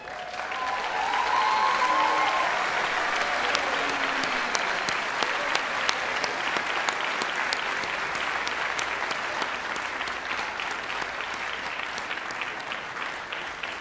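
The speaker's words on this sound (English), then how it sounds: "With our applause, we recognize you, the class of 2023, our graduates." Applause for the class of 2023 graduates at Tabor College commencement, a large crowd clapping in a sustained, even roar for nearly fourteen seconds, with distinct individual claps standing out as it begins to thin.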